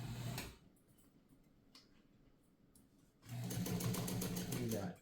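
A Morse DuoMatic sewing machine stitches the heavy double-rolled hem of logger jeans in two short, rapid whirring bursts with a quiet gap between them.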